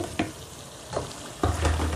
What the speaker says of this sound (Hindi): अब इसमें चिकन डालेंगे।